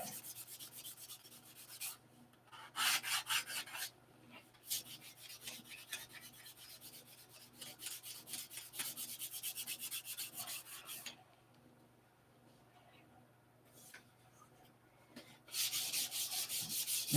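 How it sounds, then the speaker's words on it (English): Hand sanding during hangar rash repair on an aircraft: quiet, rhythmic rubbing strokes come in bursts separated by short pauses, with a longer silent gap midway before the scraping resumes. "Or would you rather just watch me sand?"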